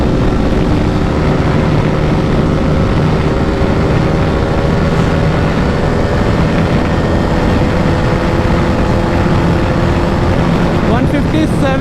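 A 2015 BS3 KTM RC 390 motorcycle pulls hard in fifth gear, its engine droning loud and steady throughout with a dense, continuous roar and a faint wind rush, no pauses or gaps.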